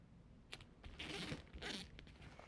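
Duct tape pulled off the roll in two long ripping strips, close and fairly quiet, with a few short clicks around them and no talking.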